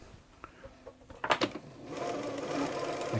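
A Bernina 930 Record electronic sewing machine, just oiled, gives a few clicks and knocks as its needle bar latches, then settles into a steady close motor whir running continuously.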